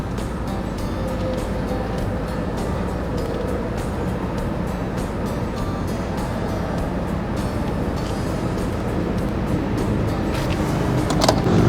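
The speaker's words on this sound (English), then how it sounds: "Now you're gonna back up the truck and get it close to the fifth wheel." A pickup truck's engine runs in a steady, loud drone as it backs toward a fifth wheel trailer at a campsite, with a continuous broadband rumble and no pauses.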